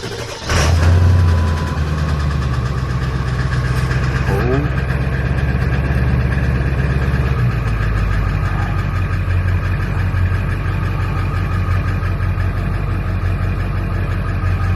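A cold Ford 7.3 Powerstroke diesel on a low battery cranks briefly and catches, then settles into a loud, steady, rough idle that runs on unbroken with a deep clattering rumble.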